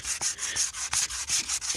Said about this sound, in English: I'm just gonna sand down to like that kind of point